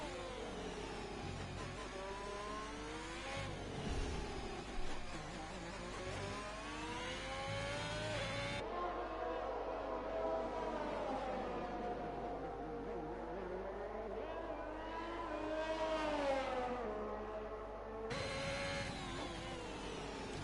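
A Formula 1 car on a qualifying lap of the Brazil circuit at Interlagos in an F1 racing game, its high engine whine rising and falling steadily through gear changes as it climbs the hill out of the final corner.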